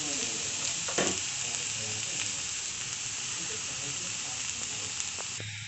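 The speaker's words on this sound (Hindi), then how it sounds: "और अभी हम इसे अच्छे से मिक्स करेंगे और इसको अच्छे से भून लेंगे" Cauliflower for gobi paratha filling frying in a pan, a dense steady hiss of oil sizzling throughout, with occasional faint scrapes of stirring close by and no talk.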